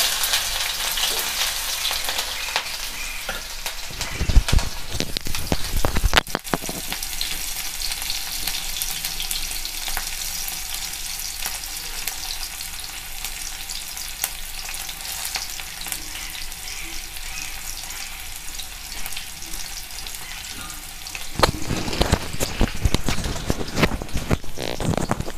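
Chopped onion frying in hot oil with whole cumin seeds, a steady close sizzle with sharp crackles and spikes as the onions go into the pan.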